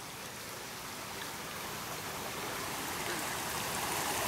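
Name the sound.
creek water flowing at night in a swamp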